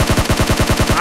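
Rapid automatic gunfire in the mobile shooter BGMI, a loud, close burst of about nine evenly spaced shots fired in quick succession.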